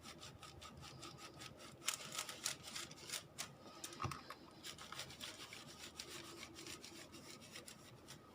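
Wax being rubbed onto paper to turn it into homemade vellum, a faint, close dry scraping in quick repeated back-and-forth strokes, alone without talk.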